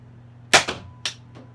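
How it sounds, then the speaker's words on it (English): Nerf XS100 toy blaster firing, a sharp loud pop followed by a few quicker clacks and a fainter final snap, close by with no talking. "fire away. So that is the XS100."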